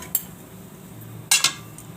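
Roasted semolina for rava barfi is scraped out of the pan into another vessel, giving a few short, sharp metallic clinks of a spoon against the pot, spaced apart in a quiet kitchen with no talk.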